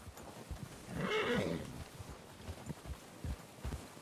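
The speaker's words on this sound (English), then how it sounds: "Was I told to get off of the horse?" A horse in the video game Red Dead Redemption 2 lets out a clear, mid-distance whinny, with soft clip-clop hoofsteps and shuffling around it.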